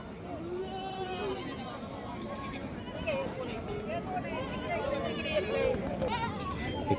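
Several Beetal cross goats bleat repeatedly at close range at a livestock market in Bhigwan, their wavering calls overlapping with background chatter from people nearby.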